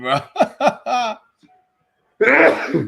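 A single sharp sneeze bursts out after someone speaks a few words, close and loud, during a watch party for a bare-knuckle fight.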